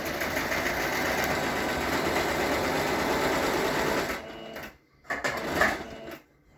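A sewing machine runs steadily as it stitches fabric, a loud continuous mechanical whir that stops, then gives a short back-stitch burst before falling quiet, with no speech.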